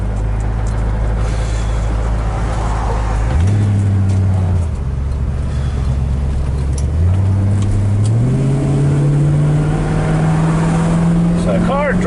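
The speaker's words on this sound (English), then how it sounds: "So the car drives out really quite nice. Good, nice, smooth shifts." A one-owner 1965 Ford Mustang on a test drive near Laguna Beach, its engine droning steadily inside the cabin and climbing in pitch through smooth gear shifts, with someone talking over the motor.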